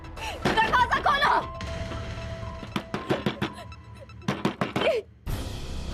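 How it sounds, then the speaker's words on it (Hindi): Knocking on a door in a Hindi TV drama scene comes as a series of sharp, moderately loud raps in clusters, with voices and background music around them. "शायद कोई दरवाजा ठोक रहा है।"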